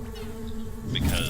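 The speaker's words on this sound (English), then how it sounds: "I wouldn't be able to deal with these bees as easily." Bees in the video game Secrets of Grindea buzz in a close, steady drone, swelling louder with a sharp game effect near the end.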